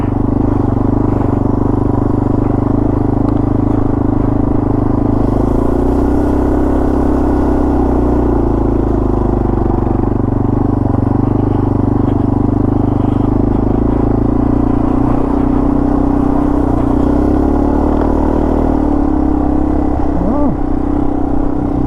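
A Yamaha TW200 motorcycle with tubeless tires rides through deep gravel on a dirt trail, its engine a steady low drone with faint crunching and scraping from the loose stones under the wheels, continuous throughout.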